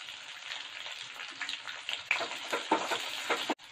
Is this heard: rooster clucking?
no